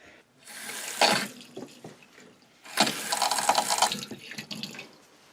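Water gushes from the faucet of a newly installed bathroom vanity sink with freshly connected drain and supply lines, in two strong bursts separated by a brief lull, close and loud with no speech.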